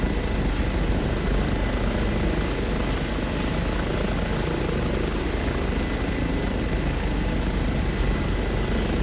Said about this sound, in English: let's jump back in the helicopter here